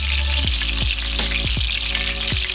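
Hot oil sizzles loudly and continuously as breaded pork schnitzel fries in a pan, with a few quick crackles and pops along the way.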